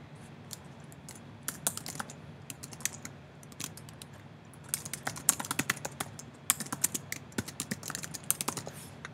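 Rapid, uneven clatter of keys on a computer keyboard while logging in to a Weebly account, close and fairly quiet, with brief pauses and bursts of quicker keystrokes.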